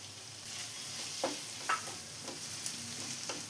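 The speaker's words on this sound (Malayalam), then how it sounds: "ഇനി തക്കാളിയും കൂടെ നന്നായിട്ടൊന്ന് വഴറ്റിയെടുക്കണം." Chopped tomato with turmeric sautéing in a pan for a Kerala-style egg roast, a faint low sizzle broken by a few soft scrapes and stirs of a spoon, with no one talking.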